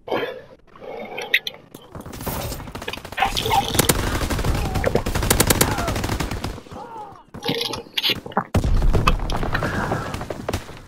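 Rapid bursts of MP40 submachine gunfire in a WW2 shooter game, loud and dense, with a short lull before another sustained volley and scattered shots near the end.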